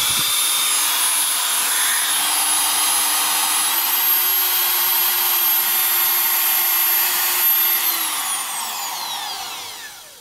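A cordless power tool fitted with a knock-off Milwaukee M28-style 5.0 Ah battery whirs loudly and steadily for about eight seconds, its pitch stepping up partway through, then spins down to a stop.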